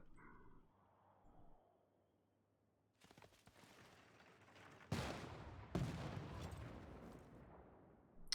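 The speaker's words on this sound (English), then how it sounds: "Good luck with those field cannons knocking into steel walls." Field cannons firing on walls in the Civilization 6 video game, heavy booming blasts with rumbling noise, two sharp loud reports after a rising barrage, with no talk over it.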